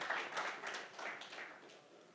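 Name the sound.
audience applause at a conference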